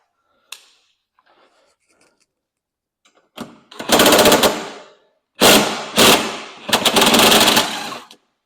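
A power tool fitted with a 13 socket spins out door fasteners on a Segway Villain side-by-side: after a few faint clicks, four loud, close, rattling bursts of about a second each come in quick succession, with no talking.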